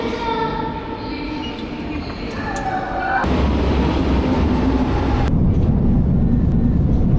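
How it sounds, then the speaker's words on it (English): Lisbon metro train ride, loud steady rumble of the carriage with squealing wheel tones early on, then a sharp shift into a heavier roar as the train speeds through a tunnel. "So to go to the stadium, I'm taking the metro."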